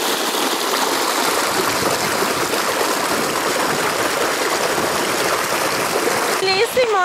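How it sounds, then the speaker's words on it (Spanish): Water flows and splashes steadily at an outdoor swimming pool, a continuous close rushing wash that holds for several seconds before a voice breaks in briefly near the end. "Mira que chévere el agua"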